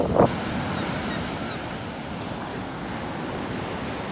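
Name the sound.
big ocean waves breaking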